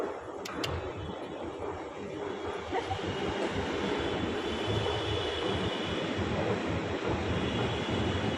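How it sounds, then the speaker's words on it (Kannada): Continuous rushing roar of a Namma Metro train running, steady and fairly loud with a few sharp clicks early on, no clear talk over it. "ಅಲ್ಲಿ ಮೆಟ್ರೋ"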